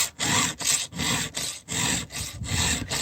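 A hand file is drawn across the top corner of a chainsaw chain tooth, giving close, rasping strokes in a steady rhythm of about six passes with brief gaps between them.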